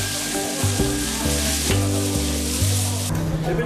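At a street food stall in Qingdao's market, food fries with a dense, loud, continuous sizzle, layered over a low steady hum of background noise and occasional clatter.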